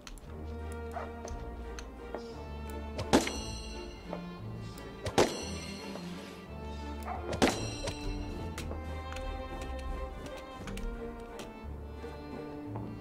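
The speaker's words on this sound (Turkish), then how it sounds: "Balonların patlama sesi de çok güzel böyle." Balloons popping in the video game Trine 4, three sharp bright pops spaced a couple of seconds apart over soft game music and ticking sounds.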